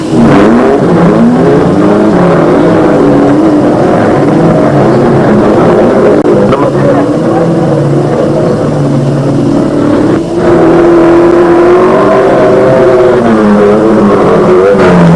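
Audi 100 race cars accelerate hard at a 1981 race, their engines roaring loud and continuous with rising and shifting tones, close and dominant throughout.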